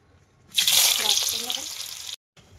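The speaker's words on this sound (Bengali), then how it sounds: "তো এইটাকে এখন আমি ভেজে তুলে নেবো।" Boiled jackfruit drops into hot oil in a wok and sizzles loudly at once, a close, hissing fry that slowly eases before cutting off abruptly.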